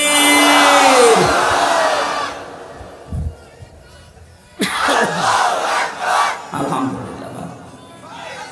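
A large crowd at an outdoor Islamic sermon gathering roars the takbir chant in unison, loud and sustained, with a leader's voice calling before and between the massed responses.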